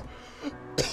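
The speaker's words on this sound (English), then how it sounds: "Awful cough, man." A man gives a short, close throat-clearing cough, a soft rasp followed by a sharper burst near the end of the second.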